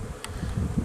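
Buckfast honeybees hum at an apiary hive, a low, close, continuous buzzing that wavers in loudness, with a brief higher click partway through.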